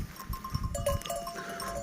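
A flock of sheep with a lamb calling near a ram in a mountain pasture, faint bleats and stirring animal sounds at close to moderate distance over a noisy outdoor background.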